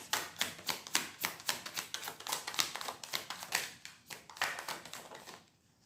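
Rapid rhythmic riffling and tapping of tarot cards being shuffled, a crisp series of close, repeated bursts that stops abruptly at the end.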